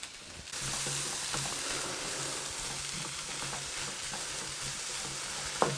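Bamboo shoots and vegetables stir-frying in a hot pan give a steady, close sizzle and crackle for the whole stretch, with a few sharp clinks of a utensil scraping the pan and a louder clatter near the end.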